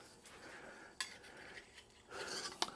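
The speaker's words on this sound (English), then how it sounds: "I'm going to use the end of this ruler right there as a scribe" The end of a ruler scribing a line on stainless steel header tubing, producing light scraping and scratching strokes with a few sharp metallic clinks, close and quiet, with no talking.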